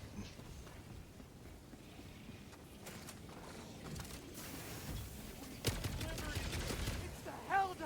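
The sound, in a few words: MG sentry turret firing in the video game Helldivers 2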